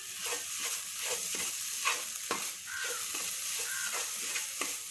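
Ground chilli, garam masala and turmeric being stirred and roasted in a pan for chicken cutlets, with a steady close sizzle broken by repeated scraping strokes of a spoon at a quick, uneven rhythm and no talking.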